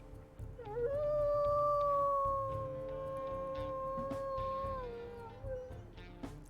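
A wolf pup's soft, solemn howl from the video game WolfQuest rises and holds a long steady tone for several seconds, then fades, over a low murmuring background of game ambience.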